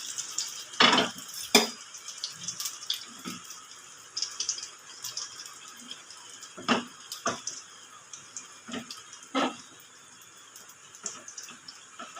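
Egg batter frying in oil over a low gas flame gives a quiet, close sizzle broken by sharp rattling clinks of a utensil against the pan, with no voices.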